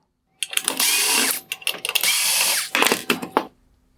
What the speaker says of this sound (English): I'm going to remove the 2 T20 Torx screws from the bottom of the projector